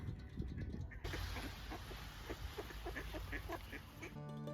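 Ducks gather by a Scottish lakeside, trailing a stopped car and quacking in a busy, repeated chorus close by, over steady rumbling background noise.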